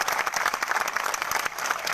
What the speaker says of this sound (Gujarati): બે હાથ ઊંચા રાખીને તાળીઓ પાડો